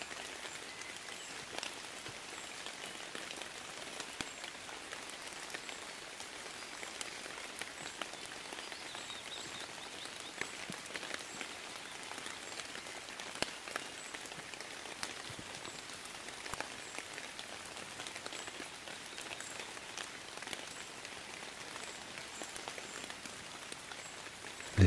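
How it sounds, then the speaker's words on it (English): Steady rain falls across a surface, a dense, even hiss of countless drops with occasional louder individual taps, continuous and close, with no voices. "Listen to the fall of the rain."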